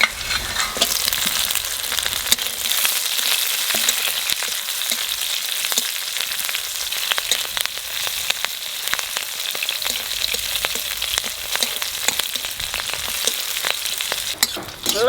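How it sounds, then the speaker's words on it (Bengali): Garlic and green chillies fry in hot oil in a pan, giving a loud, continuous crackling sizzle with scattered pops and stirring scrapes close by, and no talking. "লঙ্কা রসুন ভাজা হয়ে গেছে,"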